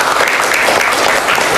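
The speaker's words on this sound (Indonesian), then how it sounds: "Aplaus untuk kita semua." A room of teachers and students in a mocktail-making class breaks into applause: dense, steady clapping that is loud and close and lasts throughout without pause.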